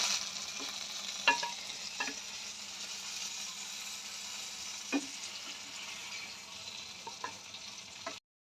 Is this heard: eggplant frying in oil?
yes